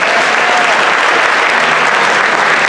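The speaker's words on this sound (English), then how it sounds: "Please give them a round of applause." Loud, dense applause from an audience at a middle school winter band concert, a close continuous roar of many hands clapping with no pauses.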